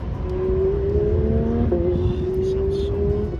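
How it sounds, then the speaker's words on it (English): Porsche 911 sports car engines drone past at a steady high pitch on a track, one tone sliding and overlapping another, with a faint voice murmuring underneath. "Sitting down and eating while listening to 911's fly past"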